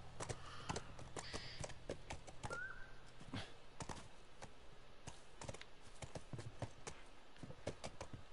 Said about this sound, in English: Gotta hitch my horse just like Red did.